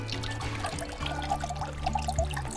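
Wastewater pours and trickles steadily into a river outdoors, a continuous close watery rush with small splashing variations throughout.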